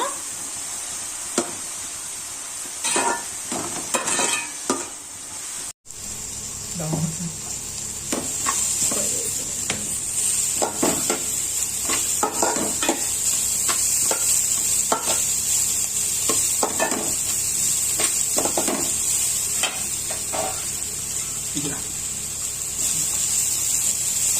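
Vegetables for sweet corn fried rice, with spring onions and capsicum, are stir-fried in a pan, giving a steady sizzle with repeated scraping spatula strokes over about twenty seconds and a brief pause early on.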